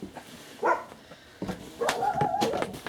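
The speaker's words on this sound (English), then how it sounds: "So my dogs are going to go crazy in a minute because next door are being noisy." Dogs at home bark in short, scattered bursts, with yips and whines and a few fairly close barks toward the end.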